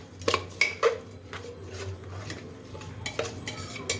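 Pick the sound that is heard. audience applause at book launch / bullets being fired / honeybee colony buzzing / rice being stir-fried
rice being stir-fried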